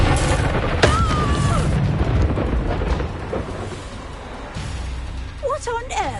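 Incendio fire spell cast in the Hogwarts Legacy video game, a loud booming crash up front followed by crackling, rumbling game effects that gradually settle, with brief chirping sounds near the end.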